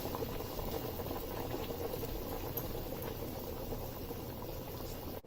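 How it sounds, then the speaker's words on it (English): Dense, steady bubbling of Nigerian goat meat pepper soup at a rolling boil in a pot, close and continuous, with no voices and a brief knock at the very end. "I'm just going to leave it to boil for about 5 more minutes"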